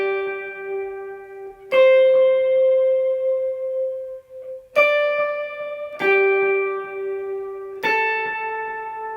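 A clean, sustained electric guitar line with light overdrive, notes ringing out with delay and reverb tails, struck in a slow, simple pattern.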